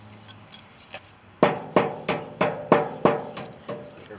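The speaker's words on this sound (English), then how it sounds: "Bend our cotter key over." Sharp metallic taps from a hammer bending over the cotter key on a light-duty trailer wheel bearing; about eight close, evenly spaced strikes that grow louder midway, with no talking.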